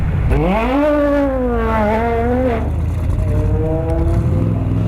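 Race car engine in a VR racing game, an AC Cobra, revving hard through a 2-3 gear shift, pitch climbing then dropping and climbing again, loud and continuous.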